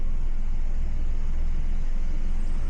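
Car or bus passing close by on a narrow hill road in Ooty, a loud steady low engine rumble and road roar that fills the whole moment.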